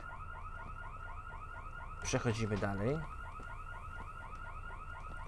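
A looping electronic alarm wails steadily through a scene in the game I.G.I. 2, a repeating rising tone, while someone briefly speaks over it partway through.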